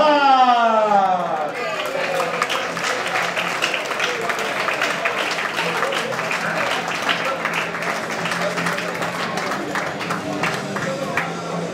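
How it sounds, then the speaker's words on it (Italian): Crowd applause at a boxing event breaks out as a fighter from Budapest is introduced, steady, moderately loud clapping with some cheering that follows a brief musical sweep at the start. "Facciamo un bel applauso a Laszlo"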